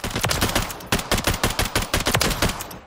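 FAMAS F1 sniper conversion fired in rapid semi-automatic in Call of Duty Modern Warfare III: a fast, steady string of loud, close shots with short uneven gaps, continuous for about three seconds.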